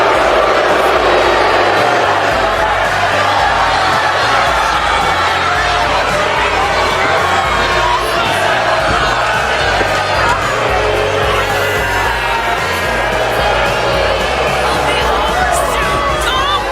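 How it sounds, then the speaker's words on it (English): Continuous crowd noise from a WWE 2K25 video game arena audience heckling the tag team Pretty Deadly, Kit Wilson and Elton Prince, on their ramp entrance. The dense, loud babble of fans and jeers holds steady throughout with no clear speech. "they're just being heckled by the fans"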